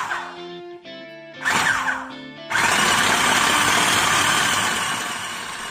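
A Braun EasyPrep food processor works dough, its steady motor whir starting after a few short bursts and then running loud and continuous.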